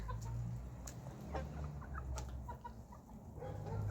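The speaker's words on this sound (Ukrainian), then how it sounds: "Декілька курочок." Several hens cluck and chatter at close range, short irregular calls over a low steady background hum.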